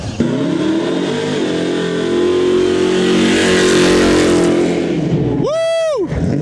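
A high-horsepower car engine roars loud and close as it revs hard and the tires break loose, the sound swelling to a peak before a rising, falling whine near the end.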